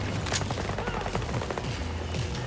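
Dense automatic gunfire from Battlefield 2042 crackles in rapid, overlapping bursts, loud and continuous, with no talk over it.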